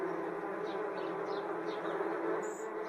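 Wasps buzz in a steady insect drone over an outdoor porch setting, holding at a constant level throughout with faint higher whines drifting past.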